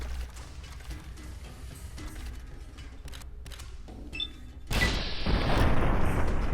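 A dynamite explosion and gunfire in a ghost town gunfight in the video game Fallout New Vegas: scattered sharp shots and mechanical clicks, then a sudden loud blast followed by a sustained roaring rumble.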